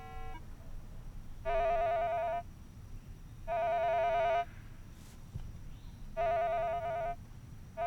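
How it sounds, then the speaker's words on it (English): Three bursts of a steady electronic warbling tone from a Minelab Explorer 2 metal detector's overload signal, each lasting under a second, separated by short pauses over faint background noise. "these will overload or send an overload signal to the machine"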